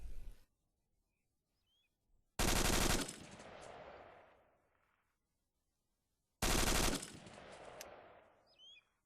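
Two separate bursts of rapid automatic rifle fire, each lasting about a second. Loud echoing tails roll out after each burst against a quiet background, with faint bird calls between them.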